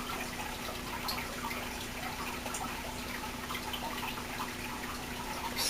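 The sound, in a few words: fish tank waterfall filter running water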